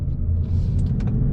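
Ford Mustang GT cruising fast in fifth gear on a private road, a steady loud low engine and road rumble with a faint hiss of wind, continuous with no talk.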